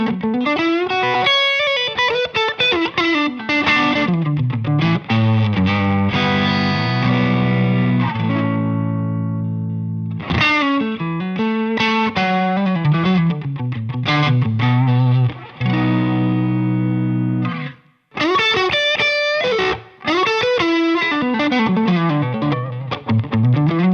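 Electric guitar chords and riffs run through a distortion pedal, first a lower-gain setting and then a richer, rounder higher-gain version of the same sound, loud and sustained with brief gaps between phrases.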